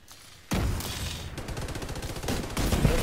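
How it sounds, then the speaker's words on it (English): Rapid sustained gunfire from several weapons in the video game The Division 2, erupting suddenly after a quiet moment and continuing as a dense, loud fusillade. "Now everybody's shooting."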